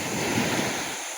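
Strong ocean waves break near a Bicol shoreline where a river meets the sea, a loud, broad surf roar with wind that falls away sharply at the end.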